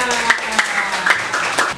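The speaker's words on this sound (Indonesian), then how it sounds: "tepuk tangan juga untuk Febrian." A classroom claps for a student after a presentation, a short run of a few distinct, fairly close hand claps over a steady murmur.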